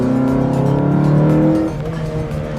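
Four-cylinder 2.2-liter single-cam car engine fitted with an aftermarket intake, revving loudly and close up with a rising harmonic drone that drops off after a second and a half into a lower idle-like rumble.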